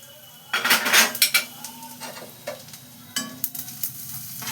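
Curry leaves, dry chili powder and grated ginger frying in a pan, with sharp metal clinks and scrapes of stirring utensils over a low sizzle, loudest in two busy bursts with quieter gaps between.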